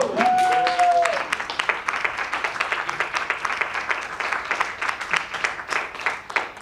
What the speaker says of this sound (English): Genuine applause is always good.